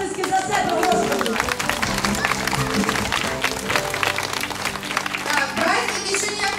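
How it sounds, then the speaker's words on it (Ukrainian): An audience applauds at a children's festival gala concert in a village: dense, continuous clapping with crowd noise and voices mixed in, lasting several seconds. "Дайте оплески за себе"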